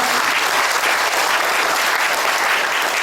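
Sustained applause from a seated audience welcoming church men's association guests at a Presbyterian prayer breakfast, a dense steady roar of many hands clapping throughout.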